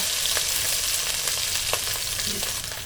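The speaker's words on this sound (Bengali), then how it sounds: "আমি দিয়ে দেবো ক্যাপসিকামের কুচুরি একটু হালকা করে ভেজে নেব" Chopped capsicum fries lightly in a little oil, a bright, steady hiss of sizzling close by with a few faint stirring clicks, easing slightly at the end.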